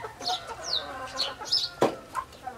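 A rooster clucks in short, clustered bursts close by, with brief sharp calls and a busy outdoor background.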